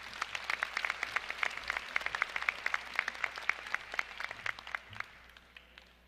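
A graduation audience claps to welcome a speaker, with steady, dense applause from many hands that fills the space evenly and then thins toward the end.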